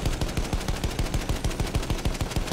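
Rapid machine-gun fire in Battlefield 1, an unbroken stream of about eighteen loud, close shots, steady and evenly spaced, with no talking.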